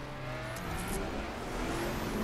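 A Ford in the racing game The Crew accelerates away, its engine a steady, rising drone with no voices over it.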